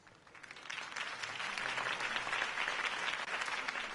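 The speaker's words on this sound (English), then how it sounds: "If only Mr. Wayne, my campaign's largest backer, could have heard that applause" A crowd in a Batman video game breaks into applause that swells quickly and then stays as a dense, continuous clatter of clapping to the end.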